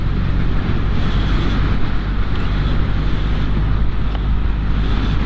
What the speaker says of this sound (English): Wow, breezy old day.